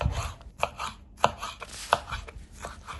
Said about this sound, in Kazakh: Болгар бұрышында шамалы ұзындау етіп турасаңыз, салатыңыз әдемі болып шығатын болады.